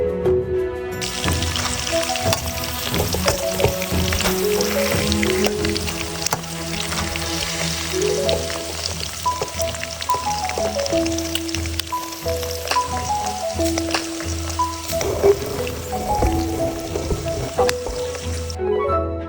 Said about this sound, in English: let the fat slowly render out